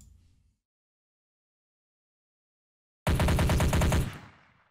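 Gunfire from a Unity first-person shooter weapon: a silent stretch, then a loud, rapid automatic burst of about a second and a half that decays, followed by a new burst starting at the very end.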